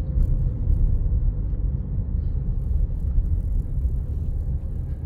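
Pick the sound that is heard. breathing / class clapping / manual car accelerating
manual car accelerating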